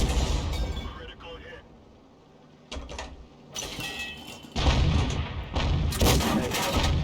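A 105 mm leFH18B2 artillery gun fires in a video game, and a shell lands beside an enemy turret: a few deep booms and impacts swell out of a rumbling battle ambience, with a voice talking at times underneath.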